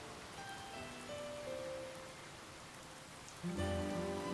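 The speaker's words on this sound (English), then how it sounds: "Well, it's raining, so my sprinkler's actually pointless right now." Steady rainfall in the farming game Harvestella, a soft, even hiss of rain with low game music tones underneath, growing slightly louder near the end, no talking.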